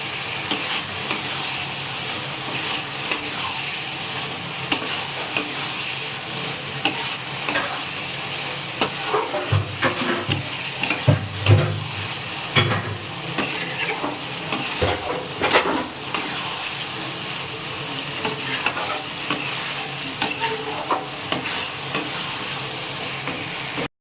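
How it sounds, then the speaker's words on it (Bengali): Bombay duck (loitta) fish fries in a thick oily spice masala, giving a loud steady sizzle and hiss that runs throughout, with the scrape of stirring and a few louder spatters midway, close up and without talking. "এবার দিয়ে দেব মাছ, লোটে মাছগুলো দিয়ে দেব"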